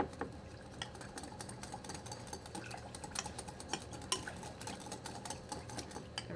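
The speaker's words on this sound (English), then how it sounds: "And then we're just going to whisk it up a little bit." A whisk beats a spoonful of honey into a mixture in a bowl, a steady run of metallic clinks and scrapes ticking rapidly against the sides throughout.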